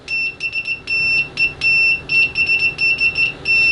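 A Pro'sKit MT-2017N multimeter sounds a loud high-pitched continuity beep as ProMaster probes make contact, chirping in rapid intermittent bursts as the contact flickers, close up with no talking.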